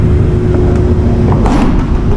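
An Altec Eco truck runs an emission test on a laboratory dyno, its engine giving a loud, steady, close drone with a low hum that holds without pause.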